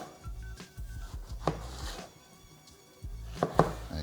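An eggplant is cut into cubes with a knife on a board, producing irregular soft thuds and several crisp, sharp chops close by.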